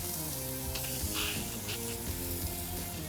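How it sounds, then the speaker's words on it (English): A steak sears on a smoker grate with a steady, dense sizzle and hiss that runs unbroken throughout, fairly close and loud. "Let's get this other side seared."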